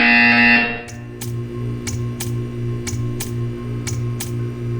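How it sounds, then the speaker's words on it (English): A harsh electronic buzzer in Portal 2 blares briefly, then gives way to a steady hum with a regular series of faint ticking pulses. "When you hear the buzzer, stare at the art."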